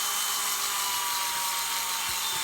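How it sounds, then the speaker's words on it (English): A power drill bores through a crawlspace door, a steady, loud, high-pitched whine close by that runs unbroken throughout, with no talking. "now we're going to go ahead and drill through it"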